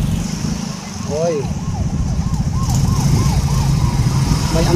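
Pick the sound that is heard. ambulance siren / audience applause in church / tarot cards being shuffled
ambulance siren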